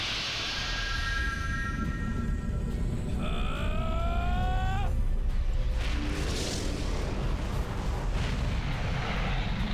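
The Final Burst fire attack in the Legend of Dragoon video game roars as a loud, continuous blast with rising tonal effects layered over it.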